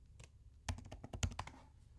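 A short burst of keyboard typing, with about a dozen quick, close key clicks clustered in the middle of a two-second stretch, over a faint low rumble and no speech.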